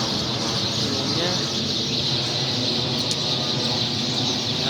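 A dense, continuous chatter of hundreds of birds roosting in a date palm, a loud unbroken wash of overlapping calls and squawks close by, with no pauses across the stretch.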